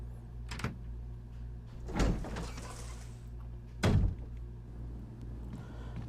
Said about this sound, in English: We're going to go through this door.